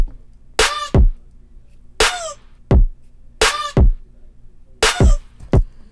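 Four short bursts of screechy, squawking recorded human scream, each layered on a sharp snare drum hit, repeating in an even rhythm over a low hum.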